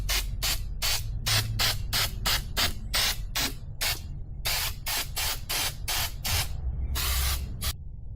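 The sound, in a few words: spraying Fluid Film rust protection onto car undercarriage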